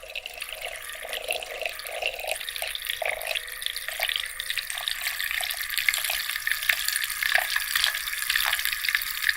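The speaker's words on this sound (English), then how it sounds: "When I cranked it up, you could hear the water." Water warming on a heating pad cranked up toward 100 °C gives a steady, close hiss with faint bubbling and dripping textures, continuing evenly without any talk.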